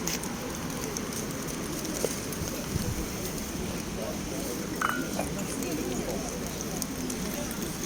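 Steady rain falling outdoors at an open-air flea market on a miserable day, a constant broadband hiss with faint scattered patters, fairly quiet and continuous, with occasional small background knocks.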